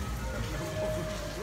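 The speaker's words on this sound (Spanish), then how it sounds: "Está lloviendo aquí, así súper fuerte." Heavy rain pours down in a steady, dense hiss of drops hitting surfaces outdoors at a school, loud and close throughout the clip.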